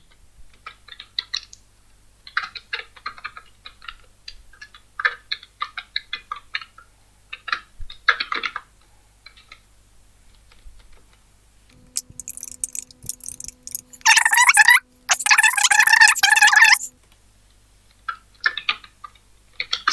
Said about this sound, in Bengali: এখন দ্বিতীয় লাইনে যাওয়ার জন্য আমার অবশ্যই অলটা এন্টার চাপ দিতে হবে